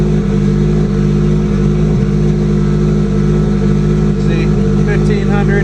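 A Subaru GC8 turbo engine idling on a cold start, a loud, steady low hum held at high idle with little change in pitch, with brief faint sounds near the end.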